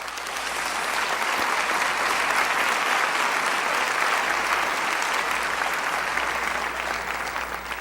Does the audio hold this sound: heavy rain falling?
no